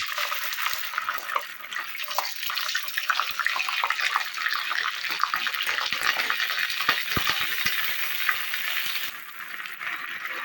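Onion sizzles loudly in hot oil in a pan for egg koftas, a dense continuous frying hiss with occasional stirring clicks, close and with no voices.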